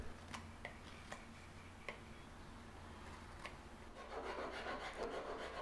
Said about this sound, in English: Use a little rasp here just to smooth things up and get close to the final finish.